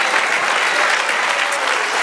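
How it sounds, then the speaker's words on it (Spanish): A church congregation applauds during a sermon, a loud, dense burst of clapping from many hands filling the room for a couple of seconds. "Denle un aplauso al Señor."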